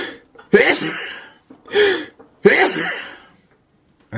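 Three sharp, explosive sneezes burst out one after another, each with a breathy tail, separated by short pauses of near silence.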